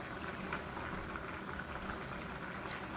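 Creamy spinach pasta sauce with chicken breast, sausage and tomatoes boiling steadily in a pan, a continuous close bubbling hiss with small pops throughout and no talk.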